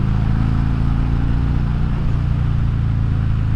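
A Harley-Davidson Road King Special motorcycle cruises along the road, its engine holding a steady, loud low rumble with constant wind noise throughout.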